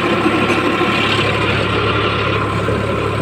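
Eicher 551 tractor engine running steadily at idle, a continuous low diesel rumble close to the microphone with no talk over it, used alongside a rotavator.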